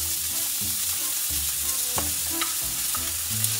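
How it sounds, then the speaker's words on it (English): Onions sauté in olive oil in a pan, a steady soft sizzling hiss with occasional clicks of stirring, close and fairly quiet over a low hum. "I will saute until nice and golden"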